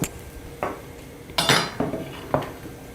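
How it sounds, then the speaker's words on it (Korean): Kitchen bowls being taken out and set down while preparing a vegetarian mushroom rice bowl, a few sharp ceramic clinks and clatters spaced apart, near and fairly quiet, with no talk. "그 다음에 여기 그릇도 좀 꺼내고"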